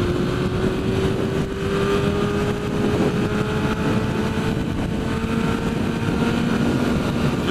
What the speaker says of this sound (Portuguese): Tá bonito o barulho dele. Ele tá, eu acho que é um motor 6 cilindros, hein?